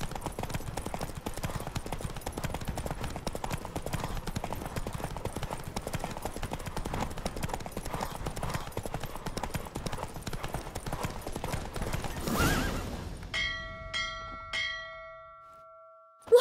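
Horse galloping in a race in the video game The Witcher 3, a fast continuous drumming of hooves close and loud, slowing to a few final thuds as chime-like game tones ring out at the end.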